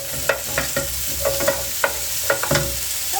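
Cauliflower and capsicum sizzle in a hot pan and are stirred around, with a steady frying hiss broken by repeated sharp scrapes and clacks of the utensil against the pan, close up.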